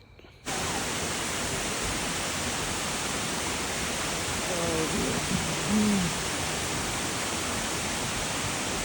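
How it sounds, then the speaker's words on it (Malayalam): A waterfall in Georgia, heard from near its top, roars as a dense, steady wash of noise that starts abruptly and holds even throughout, with a brief murmured voice partway through. "ഏകദേശം വെള്ളച്ചാട്ടത്തിൻ്റെ ഏറ്റവും മുകളിലെത്തി നമ്മൾ"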